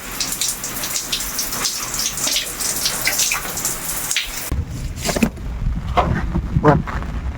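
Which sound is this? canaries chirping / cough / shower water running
shower water running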